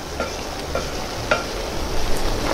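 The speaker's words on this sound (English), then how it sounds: "We'll stir that up." Bacon, onions and potatoes stirred while frying on an outdoor cooking disk, a steady sizzle broken by a few scraping utensil strokes, close and fairly loud, no talking.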